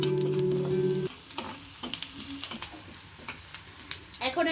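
Onions fry in a pan for a Bangladeshi fish bhuna, with steady loud sizzling for the first second, then quieter crackling and stirring scrapes through the rest.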